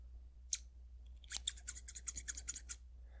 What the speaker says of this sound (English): let's move on to a very practical item, a pair of scissors